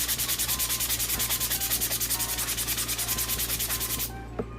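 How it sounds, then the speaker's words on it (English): Rhythmic back-and-forth rubbing of a coarse sanding sponge on a 3D print's layer lines, steady strokes for several seconds before it stops abruptly. "we want to start off with a coarse sanding sponge or sanding block, and then start sanding the area"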